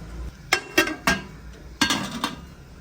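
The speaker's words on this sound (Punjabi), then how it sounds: "ਢੱਕਣ ਉੱਪਰ ਰੱਖਦੀ ਆ," A metal lid set onto a cooking pot of meat cooking in its own fat, several sharp clanks and clinks in quick succession, close and moderately loud over a quiet background.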